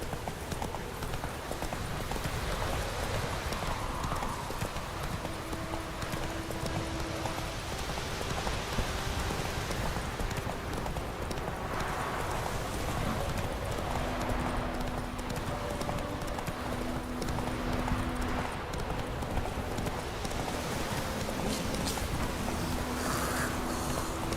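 The horse Roach trots through The Witcher 3 with a steady, continuous clip-clop of hooves, joined by rain and wind ambience and occasional soft tones from the game.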